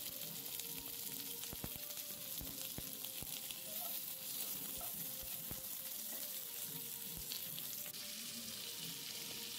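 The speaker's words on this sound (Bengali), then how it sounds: "এবার শিমটাকে 2-3 মিনিট নাড়াচাড়া করব" Flat beans and potato stirred and frying in a pan with salt and turmeric, a steady close sizzle throughout with occasional scrapes and knocks of the spoon, no voices.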